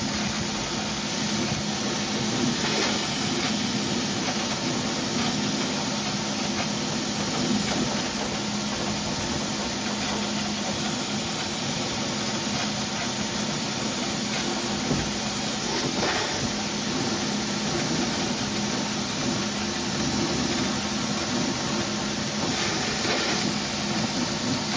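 A pressure washer sand blaster sprays with a loud, continuous high-pressure hiss throughout, with faint shifts as the nozzle moves, and no talking.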